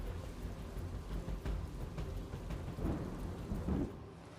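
Heavy torrential rain pours steadily during a red-alert downpour in Navsari, with low rolling thunder rumbling through the middle and growing stronger near the end; no voices.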